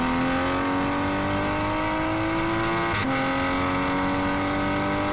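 A Toyota Supra race car accelerates hard at Ridge Motorsports Park, its engine note climbing steadily, briefly dropping with a quick gear change midway, then rising again; loud, close and unbroken.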